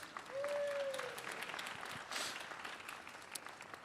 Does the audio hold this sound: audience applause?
yes